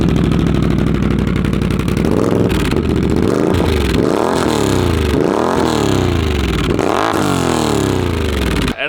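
A tuned 2022 Can-Am Renegade ATV engine revs repeatedly in loud, rising bursts with a crisp, throaty note from its aftermarket exhaust, close by and continuous, with no talking.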